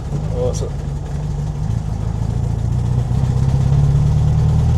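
A 1965 Volkswagen Beetle engine runs steadily as the car pulls away in first gear on a worn transaxle, producing a loud, low, continuous drone that builds slightly toward the end, with a voice briefly heard near the start.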